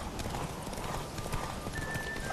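A tiring horse gallops in The Witcher 3: Wild Hunt during a race, with rapid, steady hoofbeats close up and a thin tonal whinny-like sound near the end, set in dense game ambience.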